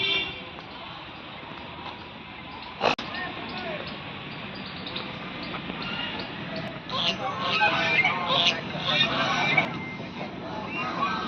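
Ducks quack and honk repeatedly amid steady outdoor background noise at a boating lake in Patna Eco Park, with a single sharp knock early on.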